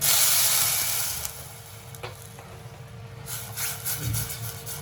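Hot water poured into roasted black masala in a pan gives a sharp burst of hissing sizzle that fades to a quieter bubbling simmer with a few faint clicks.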